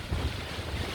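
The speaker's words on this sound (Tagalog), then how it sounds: "grabe kusog sa hangin diri karon guys bagyo lagi kuno ni guys" Strong typhoon wind roars in a steady, dense rush, buffeting the microphone with low rumbling gusts throughout, with no voices.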